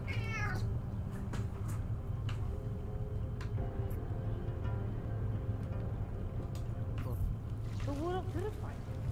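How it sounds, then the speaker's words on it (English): A cat meows from a Deus Ex game, one short meow near the start and another few rising meows near the end, over a steady background hum with talk. "Cat."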